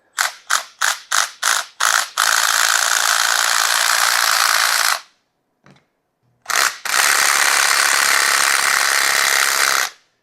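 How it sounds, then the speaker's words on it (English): Subcompact impact driver fitted with a 12 mm socket hammering at a stripped, stuck fastener: a few short rapid bursts, then two long loud sustained rattling runs separated by a brief quiet pause. "grab my little subcompact impact with a 12 millimeter on it"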